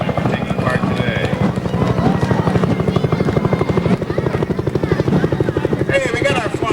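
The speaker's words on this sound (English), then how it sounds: "There's the helicopter in the sky." A helicopter flies over a Fourth of July parade in Penfield, its rotor thumping in a loud, steady rapid pulse, with a voice talking over it.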